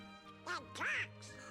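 A cartoon duck character in the Kingdom Hearts video game gives two short, nasal quacks, the second longer and brighter, over a soft steady hum.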